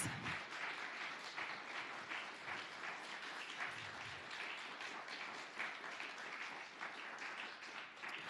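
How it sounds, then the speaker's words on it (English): A congregation at a church flower communion gathering claps steadily for its religious education teachers, a sustained wash of applause from a fairly distant crowd that holds for several seconds without any talk. "So let's give our RE folks a round of applause."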